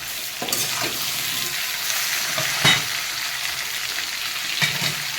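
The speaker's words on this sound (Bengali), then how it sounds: "এই আমার কচুটাকে ভালো করে বা যেটা কাঁচি কচু বলে ভালো করে একটু ভেজে নিতে হবে" Steady sizzling of taro pieces frying in hot oil, with occasional stirring scrapes and a few brief louder pops, no talking.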